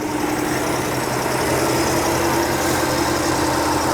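A 1967 Ford F100 pickup with dual-tip exhaust idles steadily up close, a loud, even engine drone with no breaks or voices.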